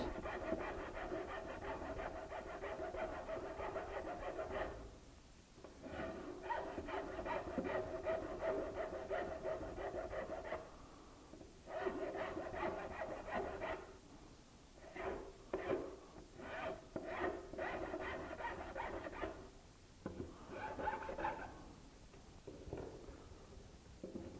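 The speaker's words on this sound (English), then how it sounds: "This is one of those Japanese rasps. I took the handle off of it. It's like a sawtooth." A handle-less Japanese rasp with sawtooth-style teeth files wood in long, steady rubbing strokes, broken by short pauses and then quicker, choppier passes, heard close up with no talking.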